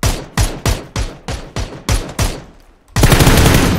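Gunfire in PUBG: eight sharp, evenly spaced loud shots in quick succession, then a pause and a dense burst of noisy sound at the end.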